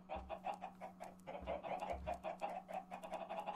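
Minecraft chickens cluck in a video game, with rapid repeated clucks in a steady bouncing rhythm that carry on throughout over a low background hum, fairly close and clear.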